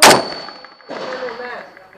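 An M1A rifle fires once at an outdoor range, a sharp loud crack followed after a short gap by the ringing clang of a steel target that hums on and slowly fades.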